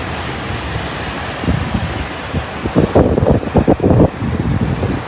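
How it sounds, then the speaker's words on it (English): The air dryer of a car wash on Old Country Road in Westbury blows as a dense, loud hiss of rushing air. It swells into heavier, gusty pulses partway through. "The sound of the air from the car wash wasn't that bad, though"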